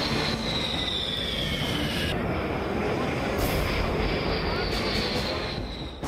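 Rafale fighter jets roar over Jodhpur during the India-France Desert Knight air exercise: a loud, dense, continuous jet rumble with a faint falling whine, steady for about six seconds before easing slightly at the end.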